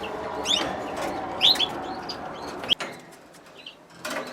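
Budgerigars and canaries chirping in a cage during breeding season, a scatter of bright short tweets and calls over a soft steady background, some notes close and loud, others fainter.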